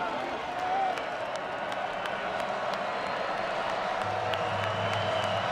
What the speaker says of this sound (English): Crowd starting to come alive.